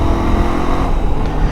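Zongshen RX3 motorcycle with an aftermarket part, ridden on a dirty track in Lahore, its engine a steady, loud, close rumble that holds level throughout the short stretch with no talk.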